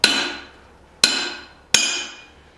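Three loud, ringing hammer blows strike hot steel being forged into a double-sided axe, each sharp impact decaying slowly before the next, spaced about a second apart with no voices.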